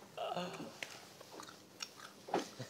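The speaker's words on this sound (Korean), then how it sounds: "붕어빵이 왜 바삭해?" Biting and chewing crispy fish-shaped pastry (bungeoppang), with scattered crunchy bites and chews close to the microphone, quiet and irregular over a few seconds.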